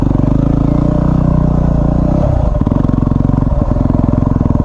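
A Yamaha WR250R motorcycle idling off road after a restart, its engine putting out a steady, loud, close pulsing thrum with a brief dip in the middle, no voices over it.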